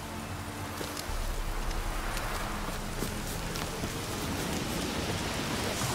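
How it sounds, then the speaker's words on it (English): Steady rain hisses in The Witcher 3: Wild Hunt, a continuous soft wash of falling drops with faint footsteps and low ambient tones beneath. "Looks like rain."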